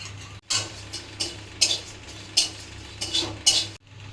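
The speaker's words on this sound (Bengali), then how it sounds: "শুকনো গরম কড়াইতে 3টে শুকনো লঙ্কা, লবঙ্গ, দারচিনি, এলাচ আর 1 টিস্পুন ধনে আর 1/2 টিস্পুন জিরে ভেজে নিচ্ছি।" Whole spices stirred in a dry hot pan, with three dried red chillies, cloves, cinnamon, cardamom, a teaspoon of coriander seeds and half a teaspoon of cumin, giving repeated close rattling scrapes of spoon on metal in short bursts.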